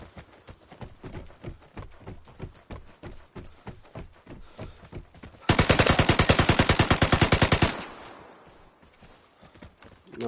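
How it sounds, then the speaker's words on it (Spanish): Rapid bursts of video game gunfire in Vigor on PS4, with a sharp, fast rhythm, loud and close, followed by a burst of sustained automatic fire that cuts off into a fading echo. "un par de tiros"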